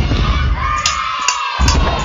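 A crowd cheers in the mobile game FNAF AR (Five Nights at Freddy's AR) as balloons open, a loud, continuous burst of celebration with a few sharp accents and no clear talk.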